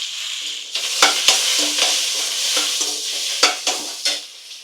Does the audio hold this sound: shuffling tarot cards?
no